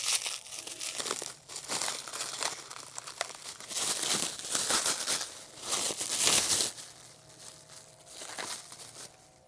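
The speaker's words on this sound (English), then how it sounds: "Now that is a lot of plastic wrap." Plastic wrap crinkles, crackles and tears as it is pulled off a Chimera hub carrier for a Honda Grom motorcycle, close and loud in bursts with brief pauses between handfuls.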